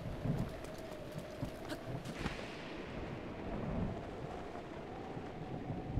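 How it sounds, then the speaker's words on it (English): Rain falls steadily in The Legend of Zelda: Breath of the Wild, a constant soft hiss of downpour with low rumbling underneath and a few faint footstep-like taps. "Oh, hello, Rain."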